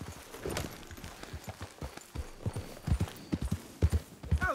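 Horse hooves galloping in the video game Red Dead Redemption 2, a rapid rhythmic clip-clop close and fairly loud, steady throughout with no speech over it.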